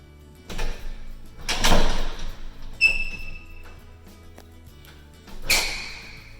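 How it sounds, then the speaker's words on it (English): Squeaky French doors in a home office swing shut, with a few soft knocks and a brief high-pitched squeal of the hinges, then a sharper closing thud near the end, close by in a quiet room. "let's shut the doors so you can get the full effect"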